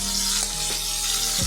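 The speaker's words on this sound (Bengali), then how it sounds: "এখন আমরা মাছের মাথাগুলি দিয়ে ভেজে নেব।" Turmeric- and salt-rubbed fish heads fry in hot oil in a kadai, a steady close hiss and crackle of sizzling, with a few faint scraping stirs and no talking.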